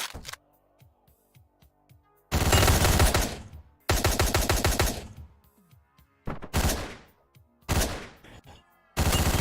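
Loud bursts of gunfire from the video game Hotline Miami, several separate volleys of rapid shots cutting in and out over a quieter game soundtrack.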